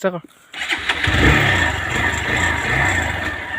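A motorbike engine cranks and catches, then settles into a steady mid-pitched idle with slight revs, heard close by, with a voice talking briefly at the start.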